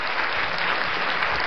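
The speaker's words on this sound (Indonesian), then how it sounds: "seru ya tepuk tangannya ya" A children's audience at a church Christmas event claps steadily for quiz winners, a dense, even wash of applause with no break, loud and close.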